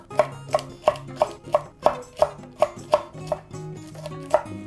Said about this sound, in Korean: 청양고추도 이렇게 잘게 썰어서 넣어주세요.